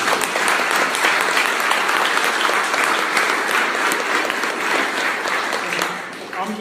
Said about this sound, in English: Can we give another round of applause for these guys?